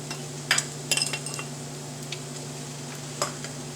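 A spoon stirs a brown sugar and flour mixture in a pot for a mustard sauce, giving a few light scrapes and clinks over a steady low hum, without speech.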